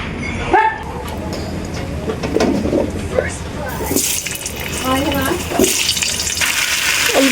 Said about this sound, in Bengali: কড়াইতে যে তেল আছে এই তেলেই আমি ওলটাকে ভেজে নেবো